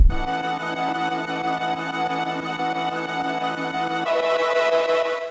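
A sustained synth melody sounds clean at first, then switches midway, through a bit crusher in FL Studio, to a harsher, gritty, digitally distorted tone with more high-end buzz.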